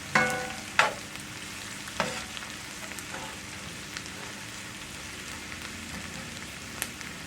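Onions for a Cajun crawfish pie filling sauté in a pan toward translucence, a soft steady sizzle with a few sharp clicks and stirring scrapes near the start, fairly quiet, no voices.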